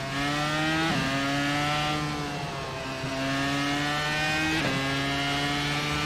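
NASCAR stock car engines in the iRacing simulator on the Spa circuit make a loud, steady, buzzing roar that climbs in pitch, drops sharply at gear shifts near one second and near four and a half seconds, then climbs again.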